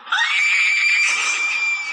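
A woman lets out a single sustained, shrill scream after a car crash, loud and close, holding steady for nearly two seconds before cutting off.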